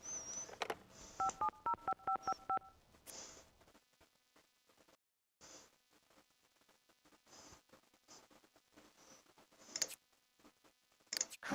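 Telephone keypad dialing tones in The Sims 2, a quick run of bright beeps near the start, followed by soft clicks and faint game ambience.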